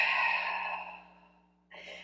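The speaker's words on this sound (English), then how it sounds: "Breathing out." A long, soft exhale during a Pilates exercise, fading out over more than a second before a second short breath begins.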